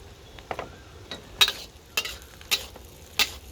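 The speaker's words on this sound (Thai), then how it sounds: "ทอดหอมแดงก่อนเลยครับ" Shallots, followed by garlic, frying in hot oil for Thai chili paste with pork belly, a steady low sizzle broken by four or five sharp scraping clanks of a utensil against the pan, close by and with no voices.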